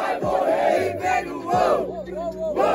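Crowd at the Batalha da Linear rap battle roars and shouts in loud surging bursts, voices rising and falling together in a dense, close wall of cheering.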